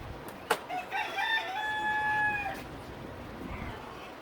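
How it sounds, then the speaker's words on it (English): A rooster crows once, a long drawn-out call rising and holding before trailing off, preceded by a sharp click, with a faint second crow in the distance afterward. "We ended up with 3 roosters and they're just... oh man, they're noisy."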